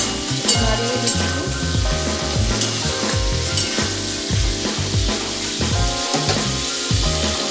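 Vegetables fry in a pan with a little turmeric and salt, stirred steadily: continuous close sizzling with repeated scraping and stirring knocks throughout.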